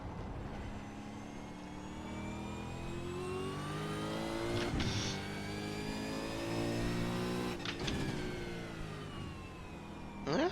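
A V8 Supercar in the iRacing sim at Daytona's road course holds a steady, loud engine drone, its pitch climbing and falling through upshifts, with two sharp shift breaks and a rising rev at the end.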